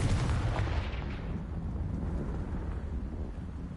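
A Confringo fire spell from Hogwarts Legacy goes off as a heavy, booming blast with a rumbling low-end roar that stays loud and dense throughout, fading slightly toward the end without any voices.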